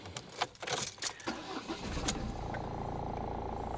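Keys jangle in a quick metallic burst, then a car engine cranks and catches, settling into a steady idle on a warm day with the air conditioning about to run; faint and close, without talk.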